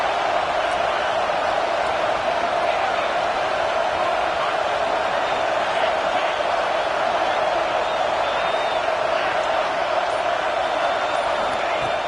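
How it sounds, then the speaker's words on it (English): A packed LSU college football stadium roars with a dense, continuous crowd noise that holds loud and steady without pause. "listen to this crowd noise. This stadium is vibrating."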